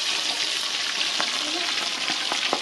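Chicken frying in hot oil in a Dominican countryside kitchen, a steady close sizzle and crackle throughout with a few sharper pops and stirring scrapes, no talk over it.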